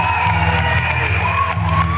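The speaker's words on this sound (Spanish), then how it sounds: "Un aplauso para ti." A studio audience at a televised singing gala breaks into loud, dense applause and cheering with shouts and whoops, sustained throughout.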